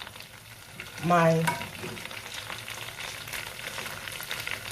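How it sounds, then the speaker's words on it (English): Chopped okra tipped into a hot pot of frying oil for fried okro soup, giving a brief loud burst of sizzling that settles into a steady, quieter frying crackle. "the next thing I'll be adding is my okra"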